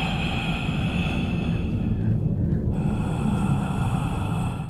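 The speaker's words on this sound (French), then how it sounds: "des voix, des respirations fortes," Heavy, rasping breaths fill a dark tunnel in a video game, a steady close breathing texture over a low rumbling ambience, with no voices.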